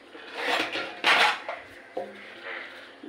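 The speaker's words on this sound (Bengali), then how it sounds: "এবারে আমি ঢাকনা দিয়ে বসিয়ে দেবো।" A lid set onto a pot of kacchi biryani, producing a few close metallic scrapes and clanks in quick succession, then a short clatter as it settles.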